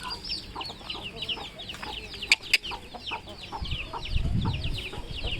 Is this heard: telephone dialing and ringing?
no